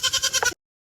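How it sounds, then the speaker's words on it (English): A Nigerian dwarf goat gives a short wavering bleat, a quick pulsing cry close by that cuts off abruptly after about half a second. "We have 2 Nigerian dwarf goats who gave birth around 8 weeks ago."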